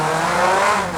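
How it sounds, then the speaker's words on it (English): A synthesized sports car engine created with Krotos Igniter, a loud, steady, tonal engine roar lasting about a second, with no speech. "including sports cars"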